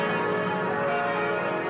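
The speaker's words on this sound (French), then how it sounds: "Les cloches de toutes les cathédrales de France retentissent." Cathedral church bells in France ringing, a sustained resonant metallic tone with layered overtones, steady and moderately loud over a brief stretch.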